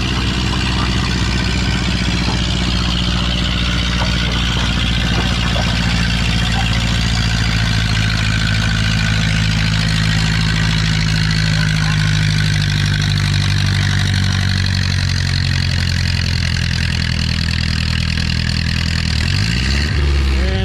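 A Ferguson tractor in a tractor pull at a spring event in Lynden, Washington, roars with a loud, steady, heavy engine drone that holds for a long stretch, then drops off sharply near the end as the engine is shut down.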